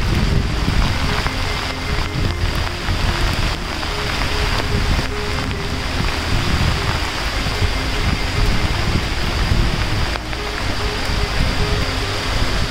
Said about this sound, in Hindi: और ये दूसरा झरना यहां से जाता हुआ।